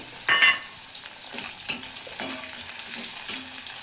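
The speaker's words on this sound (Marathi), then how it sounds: "कांदा थोडासा गुलाबी रंगाचा होईपर्यंत परतवून घ्यायचा आहे।" Onion and capsicum sauté in a hot pan, a steady sizzle broken by scraping stirs at irregular intervals, close and moderately loud.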